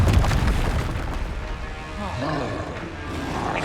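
A Confringo blast spell from Hogwarts Legacy booms in a dense, loud roar of explosion and rumbling game action that fills the whole stretch.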